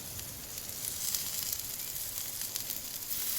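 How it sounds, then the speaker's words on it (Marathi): Paneer sautéing in a hot pan gives a steady, even sizzle and crackle, a continuous frying hiss heard up close and alone without any talk. "आता हे पनीर आपण परतून घेऊया तेव्हा किती छान ग्रील झाले वाव"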